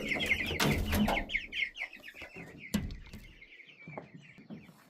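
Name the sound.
chickens clucking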